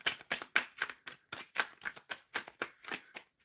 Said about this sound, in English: So let's give it a good shuffle and see what comes out.